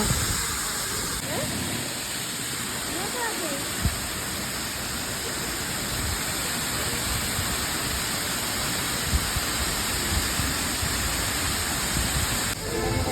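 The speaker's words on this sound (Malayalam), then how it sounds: "വെള്ളച്ചാട്ടത്തിൻ്റെ ശബ്ദമൊക്കെ എങ്ങനെയുണ്ട് കൊള്ളാമോ" A waterfall at Vagamon roars as a dense, steady rush of falling water, loud and unbroken throughout, with faint voices briefly mixed in.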